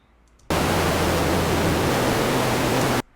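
A burst of loud, steady synthesizer white noise hiss starts abruptly, holds for about two and a half seconds, then cuts off.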